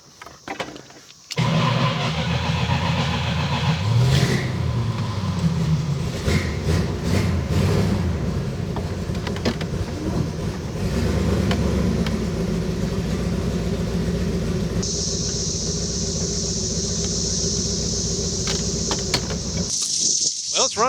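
A 1971 Plymouth Roadrunner, sitting forgotten for 35 years and smoking heavily, starts after a brief crank and keeps running at a loud, rough idle with uneven revving close by, then cuts off at the end.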